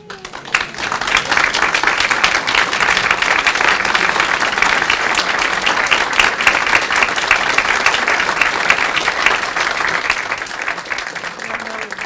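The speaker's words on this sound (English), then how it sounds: "Now we can applaud them." A seated audience at a 2024 Westborough town candidates forum breaks into steady, sustained applause for the candidates, a dense wash of many hands clapping close by that carries evenly for about twelve seconds and tapers slightly at the end.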